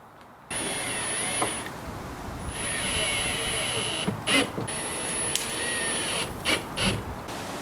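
A power drill whines steadily while driving screws to join MDF scrap pieces in a car trunk-floor build, its high motor tone running through most of the stretch and broken by a few short mechanical bursts.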